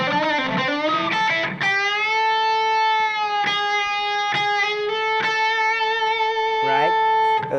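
A distorted electric guitar with effects plays a slow solo phrase from a song. Sustained notes carry string bends and a slide, and the phrase ends with a wavering bend.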